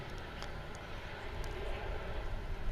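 An American Airlines Boeing 777 at DFW airport gives off a steady distant jet roar, a broad faint rumble that holds throughout with no voices over it.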